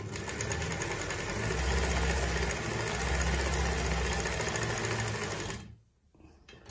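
An Elna Automatic Precision sewing machine stitches steadily and loudly for about five and a half seconds with a fast, even motor whir, then stops abruptly, leaving quiet room noise.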